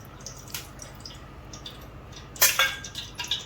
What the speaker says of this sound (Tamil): அது நல்லா காஞ்சதுக்கப்புறம் அதுக்கு தேவையான ஆயில் ஊற்றணும்.